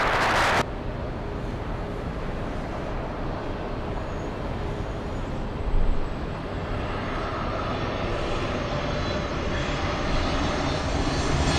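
A Southwest airliner arriving from Oakland roars loudly as it lands on runway 24 left at LAX, a sustained, rumbling jet noise that swells briefly midway and carries on without talk.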